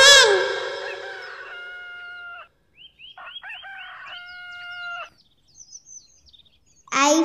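A rooster crows loudly, then a series of drawn-out clucks and calls follow, with a short sharp cry at the end; no talking.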